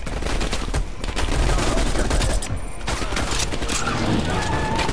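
Heavy, continuous gunfire from Black Ops: Cold War, a Cold War-era shooter set in 1982, with dense overlapping bursts and automatic fire that rattle on without pause for the whole stretch.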